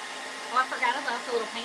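A hair dryer blows on white paint drying on an Easter egg, a steady whooshing hum under a person talking quietly and briefly.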